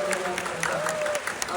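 Church congregation applauding together at a summer retreat closing service, steady dense clapping throughout, loud and close, with a voice speaking over it.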